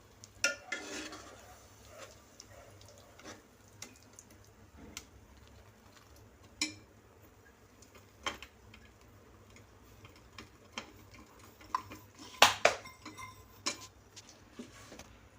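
Faint, sparse clinks of a spoon against a pan as jaggery is stirred into bael fruit pulp, quiet and intermittent over a low background hum.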